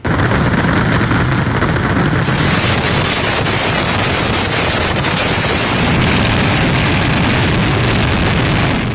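Fireworks at the Thrissur Pooram temple festival in Kerala make a relentless, deafening barrage of overlapping blasts and crackles. It roars without a break across the whole stretch, with no voices audible.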